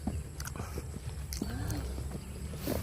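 Faint hoof clip-clops of a horse on a road, a few scattered knocks over steady outdoor rumble and distant voices.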